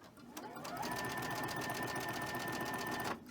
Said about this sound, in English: Still continue the chain stitching.